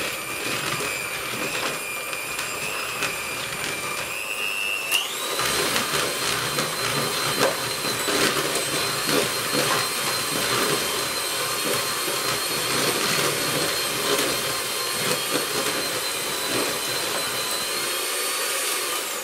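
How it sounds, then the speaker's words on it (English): An electric whisk whirs steadily as it beats soft butter in a bowl for a coffee and walnut cake. The motor drone stays loud and continuous, and its pitch shifts briefly early on. "take the electric whisk and just get the butter so that it is pliable"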